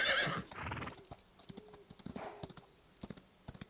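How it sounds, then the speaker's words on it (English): A horse's hooves clip-clop in the Chrono Odyssey action MMO, a neigh near the start followed by sparse, uneven hoof steps, heard alone without talk. "Horse!"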